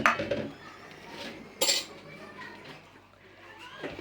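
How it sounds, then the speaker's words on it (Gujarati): A spoon clinks and scrapes against a bowl while yogurt is mixed for a barbecue chicken marinade. A sharp louder clatter comes near the middle, then softer stirring follows. "હવે દહીંને બરાબર મિક્સ કરી લેવાનું"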